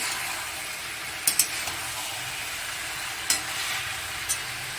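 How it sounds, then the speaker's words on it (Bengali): Spice paste is stir-fried in a pan for a papaya dalna, with a steady close sizzle and several sharp clacks of a spoon scraping and knocking the pan. "ভালোভাবে মশলাটাকে কষাচ্ছি"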